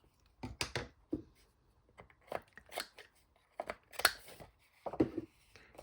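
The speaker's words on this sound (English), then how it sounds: "just angle cutting those two pieces" Paper is snipped at an angle with scissors in a series of short, close, crisp cuts and rustles, spaced irregularly with quiet pauses between.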